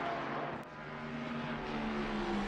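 Ford Mustang GT3 race car engine droning in a sim racing game at Watkins Glen, a steady mid-level roar with a slowly rising pitch as it accelerates, without talk.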